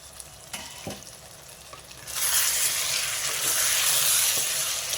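Potato curry cooks in oil in a pan, starting as a quiet simmer before a loud, close, hissing sizzle swells up around the midpoint and holds steady to the end, with no voices.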